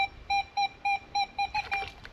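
A series of short electronic beeps from a metal detector searching in water, evenly spaced at first and then quicker and warbling toward the end.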